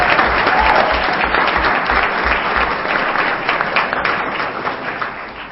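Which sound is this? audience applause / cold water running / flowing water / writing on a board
audience applause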